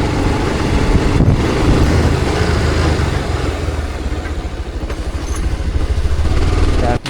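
A Benelli 600i motorcycle engine runs steadily and loudly, a dense rumbling drone with clattering texture that holds for about seven seconds before cutting off abruptly at the end.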